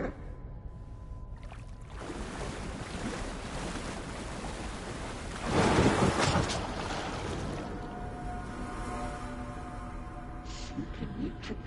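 Dark, rushing water in the Alan Wake 2 video game, a steady wash of surf-like swirling with a louder surge midway, continuous and enveloping with no speech.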